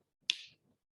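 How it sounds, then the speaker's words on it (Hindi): A single crisp finger snap, close and clear, followed by quiet. "चुटकी।"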